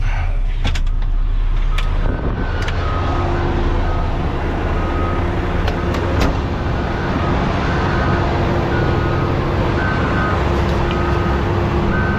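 A truck reversing toward a landfill tipper gives a steady run of evenly spaced reversing beeps over a loud, constant diesel idle, with a few brief clanks along the way.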